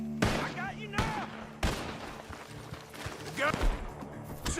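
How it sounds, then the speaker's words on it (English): Gunfire in Red Dead Redemption 2 coming from a barn, several sharp loud shots spread over a few seconds, with voices shouting between them. "Shots are coming from that barn!"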